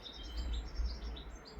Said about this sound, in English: a pair of robins and a baby